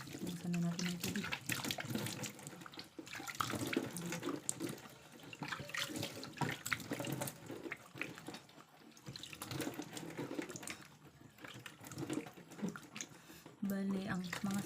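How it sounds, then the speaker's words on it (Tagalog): Water from a tap runs steadily into a sink during a face-washing routine, a continuous splashing hiss that swells and dips, with someone speaking over it. "So buksan na natin ang tubig."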